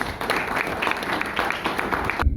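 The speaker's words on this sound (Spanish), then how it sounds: "Yo pienso que se merece un gran aplauso" A dense, steady wash of audience applause from many hands at a gathering carries on without a break, then cuts off abruptly at the end.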